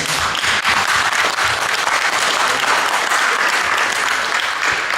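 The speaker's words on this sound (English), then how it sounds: "Let's give a round of applause to our guests again." Loud, sustained applause from a forum audience, dense and continuous clapping throughout without pause.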